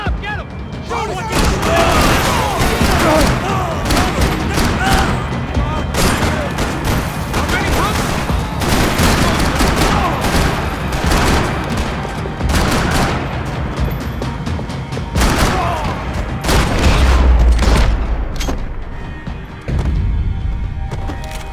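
Max Payne 3 shootout with rapid, loud gunshots and booming bursts firing in irregular volleys throughout, while voices shout over the gunfire.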